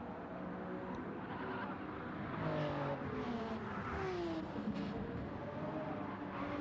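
GT3 race cars, including a Supra, a Mitsubishi and a Porsche, roar around a track in a racing video game, engines droning and shifting pitch as they accelerate, fairly faint and steady.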